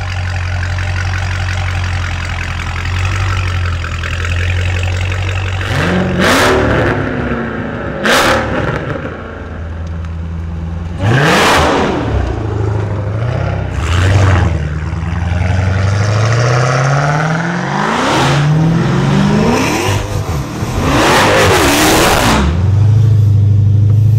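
A straight-piped Dodge Hellcat with an Armytrix exhaust rumbles at idle, then barks through a series of loud, sharp throttle blips and revs of varying length, close by, with no talking.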